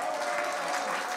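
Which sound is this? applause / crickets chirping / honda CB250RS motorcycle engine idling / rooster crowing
applause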